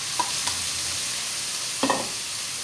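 Sweet potatoes cooking in a pan, with a few brief stirring scrapes and a soft frying sizzle under steady background hiss, no talking.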